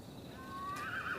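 Horse neighing in a desert stallion film scene, a rising whinny that swells louder and breaks into a quavering, close call over faint background noise.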